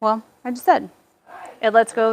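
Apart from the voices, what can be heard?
No everyday noises stand out.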